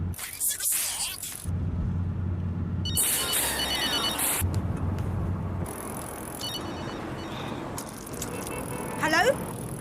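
A phone rings in intermittent bright bursts over a busy, noisy background of movement and rattling, with some faint voices mixed in.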